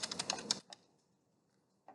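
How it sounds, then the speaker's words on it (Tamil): A quick burst of keystrokes on a PC keyboard while a command is typed at a prompt for Cisco router configuration. Several rapid, crisp clicks come first, then a lone tap and one more after a short quiet pause, all close and fairly soft. "நான் பிசியோட கமாண்ட் ப்ராம்ப்டில் டைப் பண்ணிகிட்ருக்கேன்"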